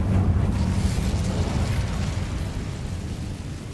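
Incendio fire spell cast in the Hogwarts Legacy video game: a sustained, loud roaring fiery burst with heavy low rumble that holds steady and slowly fades over a few seconds, with no talking.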